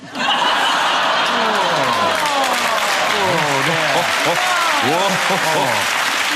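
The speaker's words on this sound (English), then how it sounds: "it evinced a round of applause" Studio audience at a TV quiz show bursts into sustained applause mixed with laughter and chuckles, loud and steady throughout, while voices talk and laugh over the top.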